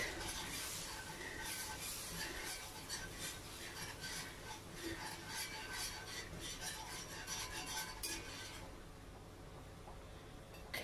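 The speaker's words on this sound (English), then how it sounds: "now I will be switching to my whisk." A whisk stirring flour into a macaroni and cheese sauce in a pot, a continuous close scraping and rubbing swirl that eases off near the end, with no speech.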